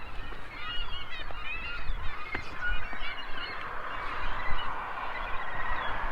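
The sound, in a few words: seagulls calling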